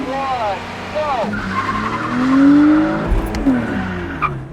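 A cheap sports car launches off the line in a drag race, engine revving and rising through gears with tire noise, heard loud and close alongside a second car, with someone talking over it.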